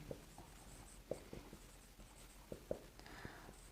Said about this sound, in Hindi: मीडियन का फार्मूला लिख रहे हैं स्टूडेंट